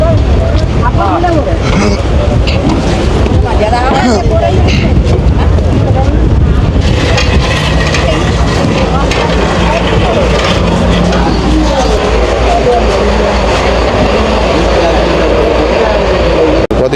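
A large passenger boat pulls away, its engine rumbling and wind buffeting the microphone throughout. People talk over the noise of the boat and the water.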